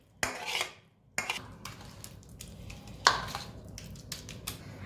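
A metal spoon clinks and scrapes against a plate while spreading a methi pak mixture, with a few distinct sharp contacts separated by short pauses and some softer scraping between them.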